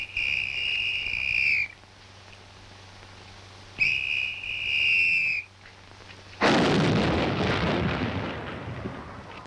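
A large gun at a proving ground is fired by lanyard: two long whistle-like tones from a signal or siren come first, then a single loud, broad blast that rumbles and decays over several seconds.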